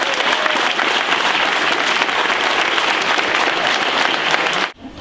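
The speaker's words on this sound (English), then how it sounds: "Give a round of applause" Loud, dense crowd applause at a Meguiar's UK car club BBQ in 2019, sustained and close before cutting off sharply near the end.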